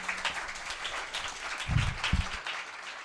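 A congregation at Sunday service in a Pakistani evangelical church claps, a dense, steady patter of many hands at moderate distance that holds throughout, with a couple of low thumps near the end.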